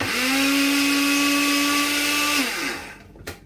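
A kitchen blender whirs loudly and steadily while mixing chicken curry ingredients with yogurt, holding an even pitch for over two seconds before winding down, followed by a short knock near the end.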